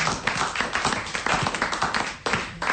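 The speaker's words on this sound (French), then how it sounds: "Allez, on applaudit Monique Pantel." A studio audience claps steadily for Monique Pantel on a French television talk show, a dense, even patter of many hands close by, with no voices over it.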